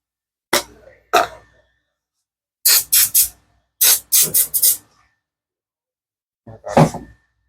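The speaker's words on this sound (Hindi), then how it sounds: "ये G530 का स्प्रे है।" G530 cleaning spray hisses onto a phone circuit board during a water-damage repair, short sharp bursts: two single blasts, then two quick clusters of three or four sprays each, and a final burst after a pause, close and loud.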